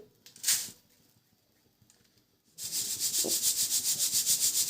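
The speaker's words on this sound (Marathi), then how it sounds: "हे चाळून घेऊत आपण पोहे पोह्यामधली धूळ हे निघते" Thin poha flakes being sieved by hand to shake out dust, with a brief rustle early on, then a rhythmic, repeated swishing scrape that sounds near and steady.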